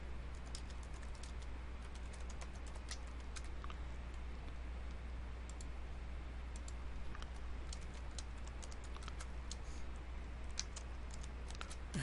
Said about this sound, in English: And once again, I'm typing in the responses.